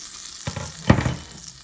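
Butter sizzling in a hot pan after chicken has been cooked in it, a brief soft hiss with a couple of gentle stirring scrapes, heard close and alone.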